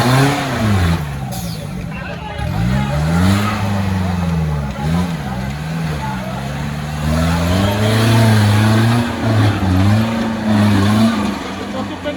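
An off-road vehicle stuck in deep mud during an off-roading competition revs hard as it claws its way out, its loud engine note rising and falling in repeated swells, with voices underneath.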